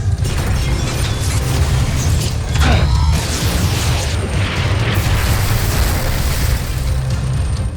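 Loud, rumbling rocket explosions from the TV series Voltes V: Legacy roll on without pause, with crackling debris and a heavy low-end roar throughout.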